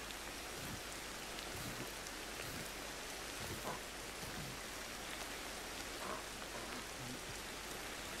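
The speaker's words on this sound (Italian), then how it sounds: "Inizio che io lo odio questa pioggia comunque" Steady in-game rain from Ancestors: The Humankind Odyssey, an even wash of falling drops and surface patter at moderate-low level, unbroken and without speech.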